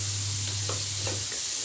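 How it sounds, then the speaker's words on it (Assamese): Potatoes and vegetables fried with salt and turmeric in a pan over low flame for an Assamese bamboo shoot fry, giving a steady soft sizzle with faint stirring scrapes, close and alone with no voices. "এতিয়া আকৌ এইখিনি মিক্স কৰি মই ভাজি ল'ম।"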